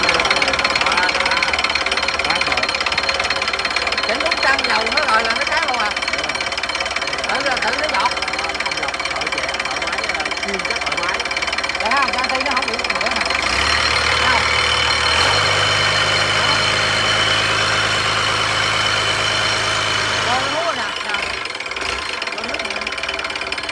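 A boat engine runs on a test, knocking hard and fast at a steady, loud pace for over twenty seconds, its tone dropping briefly partway through, with people talking over it.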